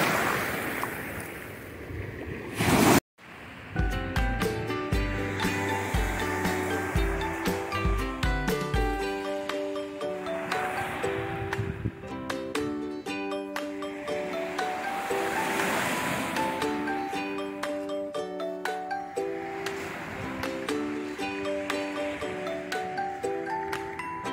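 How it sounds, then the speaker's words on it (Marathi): Ocean waves on a pebble beach near Anacortes, Washington, rolling in and washing back so small stones knock and rattle together, a steady loud roar of surf with repeated swells and a brief wind buffet near the start. "प्रत्येक वेळी लाट आली की हे दगड गोटे एकमेकांवर वाजून एक सुंदर आवाज तयार होतो"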